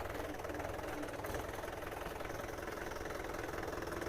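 A farm tractor engine runs at a steady idle, a continuous faint mechanical drone with a fast regular knock and no change in pace throughout.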